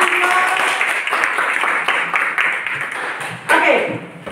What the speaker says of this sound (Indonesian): Kasih aplaus dulu buat Andro